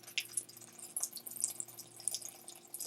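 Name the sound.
pouring Wild Turkey bourbon over peppers in chili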